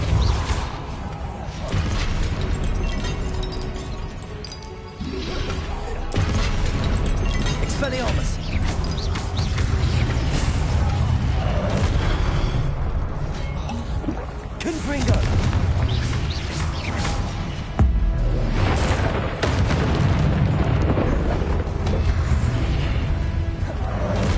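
Confringo fire spell cast in Hogwarts Legacy, with loud booming blasts and crashes repeating among spell effects, whooshes and game music throughout, with a voice speaking over the action.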